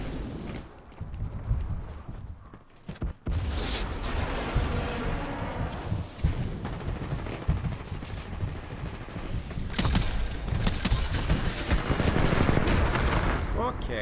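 Rapid gunfire and explosive bursts from a grenade launcher and other weapons in the Xbox One pre-alpha tech test of the video game Titanfall 2, dense and loud throughout with a brief drop-out near the start and a voice speaking at times.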